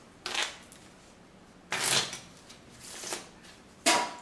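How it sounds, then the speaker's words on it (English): A deck of playing cards is shuffled in several brief riffling bursts separated by quiet gaps, close and fairly soft. "I didn't give the cards a shuffle."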